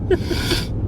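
A single sharp human sneeze, close and fairly loud, with a quick breathy intake before the burst.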